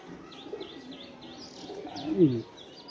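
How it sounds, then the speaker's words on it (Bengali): A small green-feathered pigeon gives soft, low cooing notes close by, swelling into a brief louder coo near the end, with faint chirps overhead in a quiet room. "এটা কি জাতের বা এটা নাম কি এটা সবুজ সবুজ পাল্লার কবুতর"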